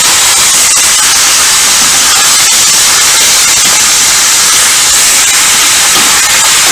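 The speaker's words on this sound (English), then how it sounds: "You're actually just searing it on both sides." A large cut of pot roast sears in a hot pan, giving a loud, steady, close hiss of sizzling that holds evenly throughout with faint crackles and no talk.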